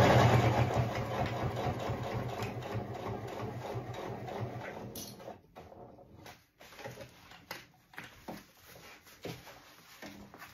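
Sewing machine stitching a backpack, a steady loud mechanical whirr running for about five seconds, then stopping and giving way to quieter intermittent knocks and handling noises close by.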